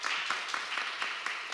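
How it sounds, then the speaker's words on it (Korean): Dense, steady applause from a crowd at a regional cultural policy forum welcoming a panelist, a continuous even wash of many hands with a few sharper claps poking through. "큰 박수로 맞이해 주십시오."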